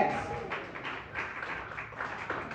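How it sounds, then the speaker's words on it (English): Studio audience clapping for a couple married 33 years at a comedy show, steady moderate applause with scattered taps rising and falling over a few seconds. "Round of applause for Jody and Marcus."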